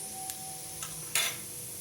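A tempering of spices in hot oil for a curd recipe gives a faint, quiet sizzle, broken by a few brief crackling pops, the last one the loudest, with no talking.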